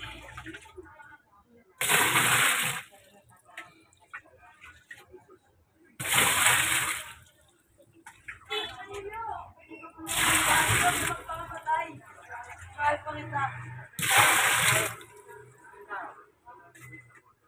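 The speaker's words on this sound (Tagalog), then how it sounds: "Lalagyan ko muna ng tubig yan para pambabad." Water pours in four separate bursts, splashing loudly into a basin for soaking laundry, with a person talking quietly in the gaps between pours.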